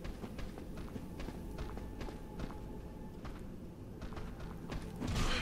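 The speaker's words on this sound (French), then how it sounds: "j'entendais des bruits de pas derrière moi" Soft, repeated footfalls thud in the dim ambience of Dark Souls, fairly muffled and continuous behind the player, with a louder rumble rising at the end.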